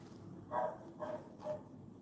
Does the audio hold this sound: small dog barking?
yes